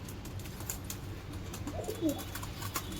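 Pigeons coo softly in a few brief, low warbling calls among background chatter and clicks.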